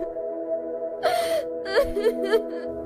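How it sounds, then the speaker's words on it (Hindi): A young woman cries in a close, tremulous voice, with a sharp gasping sob followed by several wavering whimpers over a steady tonal background. "उसे एक युवती की रोने की आवाज सुनाई दी।"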